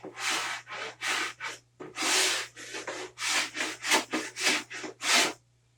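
A scraper rasps paint off a wooden clapboard in about a dozen steady back-and-forth strokes, close and fairly loud, with no one talking.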